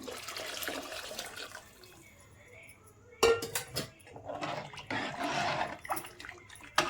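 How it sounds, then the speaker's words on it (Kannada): Water is poured into a cooking pot of greens, a splashing, gurgling pour that starts abruptly partway through and keeps running, mixed with light clinks of a utensil against the pot and a quiet voice talking. "ನೋಡಿ ಇವಾಗ ನಾವು ನೀರನ್ನು ಕೂಡ ಸೇರಿಸ್ಕೊಳ್ಳೋಣ"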